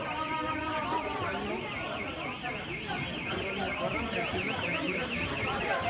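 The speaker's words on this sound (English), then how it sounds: "The earthquake set off alarms across Mexico City" Earthquake alarms ring across Mexico City, heard from inside a television news studio: a continuous warbling siren wails steadily with murmuring voices and room noise beneath it.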